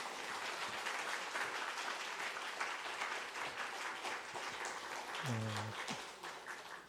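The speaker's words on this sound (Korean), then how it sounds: "우리 목사님 나오실 때 우리 큰 박수로 한번 환영해 주시겠습니다" Church congregation applauding to welcome a retired pastor at a special revival meeting, sustained dense clapping throughout, with a short tonal sound near the end as the applause begins to taper.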